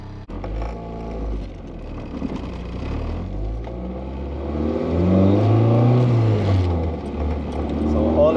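A car engine revs while driving, its low drone climbing in pitch and growing louder toward the end, heard from inside the vehicle with a voice speaking over it.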